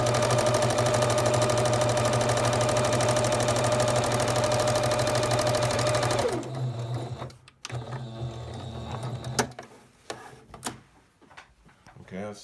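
A sewing machine stitching a quarter-inch quilt seam on pinwheel quilt pieces runs loud and steady at close range, then stops abruptly, leaving faint handling clicks and rustles.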